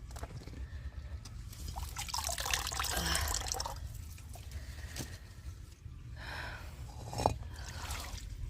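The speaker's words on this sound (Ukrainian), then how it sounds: "Я хочу зараз у деяких позливати воду" Water is poured onto potted Phalaenopsis orchids, a soft trickling and splashing that swells and fades in uneven waves at close range, with no one talking.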